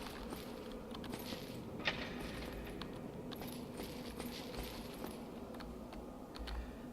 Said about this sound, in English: gets annoyed at the clickety-clacking of my keyboard, as it is a fairly loud keyboard